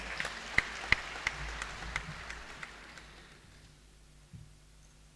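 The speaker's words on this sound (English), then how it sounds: "please give him a round of applause once more" Scattered applause from an audience at a health-sector event, a few crisp claps over a soft wash of clapping that fades away into quiet room noise.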